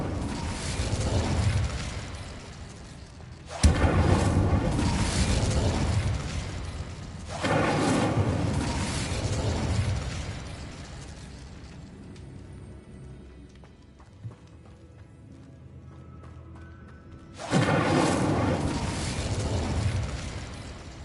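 Fiery spell effects from the Hogwarts Legacy game on PS5, Incendio and Confringo bursts, arrive as three loud roaring blasts, each rumbling for a few seconds with quieter gaps between them and no talk.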